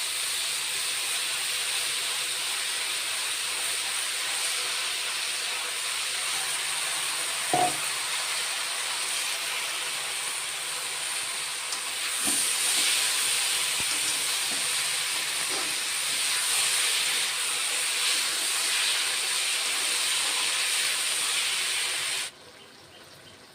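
Sizzling and steam rise as a paste of garlic and green chili goes into a hot pan, a steady loud hiss running throughout with a few soft clinks, ending abruptly.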